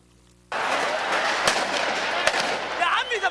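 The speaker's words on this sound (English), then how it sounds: "Gunfire outside the presidential palace in Cairo last December." Dense crackling gunfire erupts suddenly outside the presidential palace in Cairo and continues with sharp cracks amid noisy outdoor commotion and shouting, loud and chaotic.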